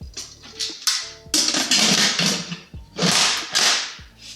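A series of sharp clicks and scraping clatters as an Instant Pot pressure cooker lid is twisted and latched, ending in a firm snap, loud and close.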